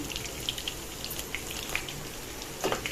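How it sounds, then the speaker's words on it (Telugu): Mustard seeds, cumin and curry leaves sizzle in hot oil with a steady crackling hiss, scattered sharper pops and spits breaking through now and then, close and moderately loud. "అందులోకి ఆవాలు జీలకర్ర రెండు రెబ్బలు కరివేపాకు వేసుకోవాలి"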